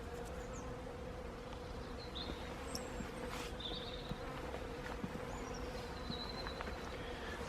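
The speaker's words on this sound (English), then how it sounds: "Can you hear those bees?" Bees hum in a low, steady buzz outdoors over a carpet of plants, a continuous droning drone with faint bird chirps and small ticks scattered through, with no voices.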